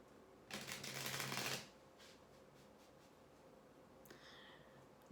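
A deck of tarot cards is shuffled in a quick, close, crisp riffle lasting about a second. Quieter taps follow as the cards are laid out, then a brief light flutter.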